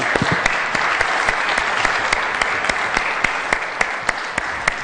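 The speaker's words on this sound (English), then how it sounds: "let's have a round of applause for our panelists here" Audience applause for a panel discussion on converting from traditional ownership, a dense, steady roomful of clapping with sharp individual claps standing out, loud and sustained throughout.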